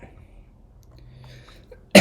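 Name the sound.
cough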